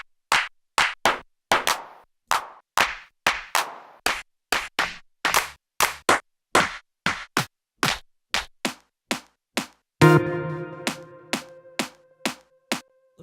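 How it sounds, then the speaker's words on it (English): A happy, minimal clap sample for a music track repeats as about two dozen sharp, dry claps in a steady pulse, close and alone. A brief tonal synth chord sounds near the end. "let's find a happy clap"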